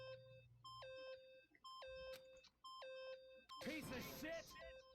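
Repeated electronic beeps in the video game Danganronpa, a steady pattern of short bright tones in quick bursts, followed by a loud voice shouting over the beeping near the end.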